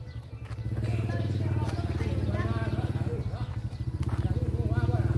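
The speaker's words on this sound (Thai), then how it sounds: "เจ้าเสียงรถไถออกบ่" A farm tractor (walking tractor-type engine) chugs nearby with a rapid, regular diesel putter that grows steadily, while a person talks over the engine noise.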